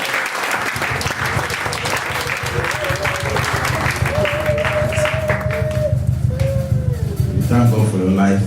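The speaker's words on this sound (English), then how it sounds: "Let's clap for them." A church fellowship audience claps for a group called up to give testimonies; sustained, even applause runs throughout, with a musical tone and a few voices rising through the clapping.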